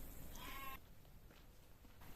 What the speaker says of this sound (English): just where the sheep are down there